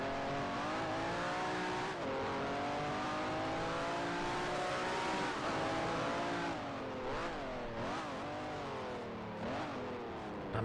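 A race car engine at full throttle in a sim racing game, a steady loud high-revving drone that holds pitch, then rises and dips through gear changes near the end, with no talking.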